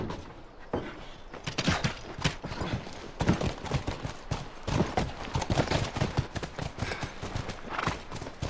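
Horse hooves clip-clop in The Last of Us, a close, brisk run of irregular hoof strikes that picks up after a quieter opening, with no voices over them.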